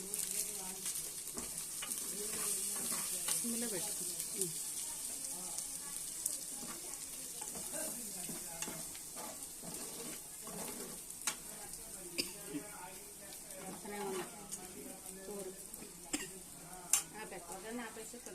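Chicken gravy curry with chicken masala and chilli powder sizzles in a pan, with frequent spoon scrapes and clinks against the vessel. The sound is fairly quiet and continuous, with faint voices in the background.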